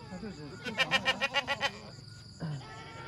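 Goats at a large livestock market in northwest Vietnam bleat in a quick wavering burst of about eight pulses, with other faint calls and background noise around them.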